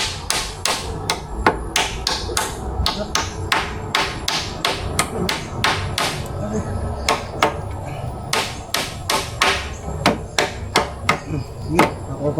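Steady hammer blows ring out one after another in a quick, fairly regular rhythm, sharp and close, with faint background noise between strikes.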